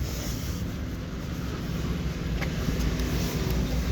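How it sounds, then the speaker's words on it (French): A bus passes on a road, its steady engine rumble and broadband road noise filling the clip at close range with no talk. "Là c'est le bus."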